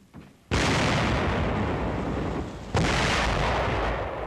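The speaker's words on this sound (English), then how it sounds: "Opening fire on an enemy pillbox at the city's east gate." WWII gunfire on an enemy pillbox at a city's east gate, recorded for a 1944 US Army newsreel, two sudden loud blasts whose roar sustains and slowly fades.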